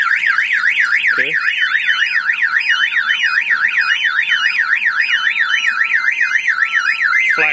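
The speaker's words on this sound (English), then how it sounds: "if somebody tries to blow out the window, the alarm will fire off" A car alarm wails continuously nearby, a loud rising-and-falling electronic siren cycling rapidly without pause, set off by a window being broken.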